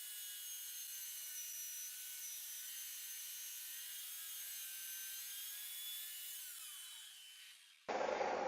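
Power saw ripping a board for a kitchen cabinet installation, a steady high whining cut lasting several seconds before the tone drops and ends in a burst of louder noise.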